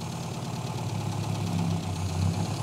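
An A-Series engine in a Mini rat rod idles during a tune-up, still cold and running a little rich, a close, steady low rumble with a faint uneven knock and vibration.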